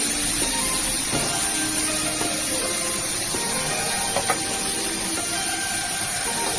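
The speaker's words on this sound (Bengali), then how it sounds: "এখানে টমেটোর বীজগুলো ফেলে দিয়ে শুধু বাইরের অংশটুকুটা নিয়ে ভালো করে একটু ভেজে নিচ্ছি সবজির সাথে" Mixed vegetables and deseeded tomato flesh fry in a pan with a steady, continuous sizzle and hiss, close and fairly loud, with a few faint clinks of stirring and no talking.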